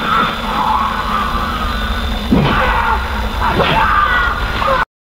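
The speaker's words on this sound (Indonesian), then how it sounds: "yang mereka dengar hanya sebuah teriakan" A loud yell rings out over a constant droning rumble, with strained screaming voices rising and falling before cutting off abruptly.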